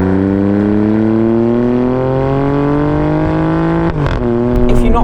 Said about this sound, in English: if you crack a window or hear this car drive past you, whoo, does it sound good